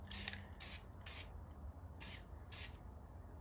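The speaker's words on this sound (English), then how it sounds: "Just gonna hit it with a light spray." Five short hissing bursts of aerosol spray on a Subaru WRX body during wrap prep, evenly spaced, close to the microphone with a low steady rumble underneath.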